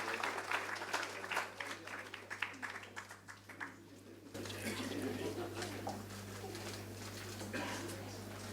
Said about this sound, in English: a big round of applause for all the people to unveil the book